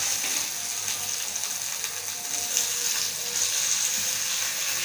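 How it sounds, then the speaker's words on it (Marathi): Bombay duck fish fries on its second side in a pan, producing a close, continuous crackling sizzle with light ticking and spattering, steady throughout and with no voices. "आपण दुसरी बाजू फ्राय करून घेऊया।"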